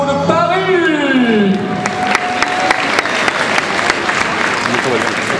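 Crowd applause breaks out at an equestrian awards ceremony for the Lido de Paris Trophy at the Longines Masters Paris 2016, steady clapping and cheering that swells in after an announcer's voice and continues loudly to the end.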